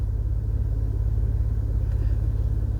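A Cadillac ATS-V idles at a light with a deep, steady engine rumble close by, a low continuous hum with no speech and no clear rise in revs yet.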